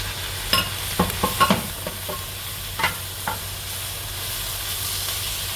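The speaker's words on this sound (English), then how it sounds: "the onion, the shallots caramelize, you'll add the sun-dried tomatoes, like so" Shallots and onions caramelizing in a pan with sun-dried tomatoes, a steady sizzle broken by several sharp clacks and scrapes of stirring, close and clear.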